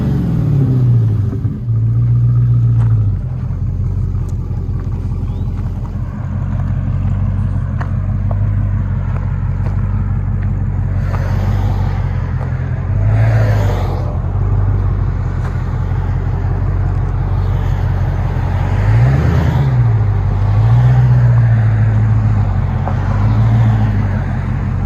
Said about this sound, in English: Hellcat Charger. Love it.